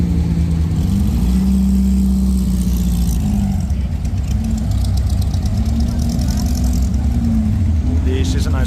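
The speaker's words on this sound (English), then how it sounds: "And now a lineup of Porsches" Porsche cars on the Mille Miglia starting grid rumble and rev past nearby in a steady, loud engine drone, with people talking over the noise.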